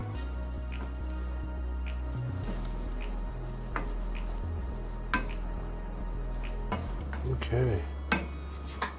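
Lentils with noodles stirred in a pot, giving soft scraping and clacking spoon strokes over a gentle simmering bubble, with a few louder knocks near the end.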